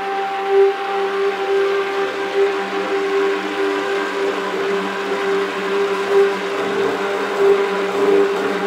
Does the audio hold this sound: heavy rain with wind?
no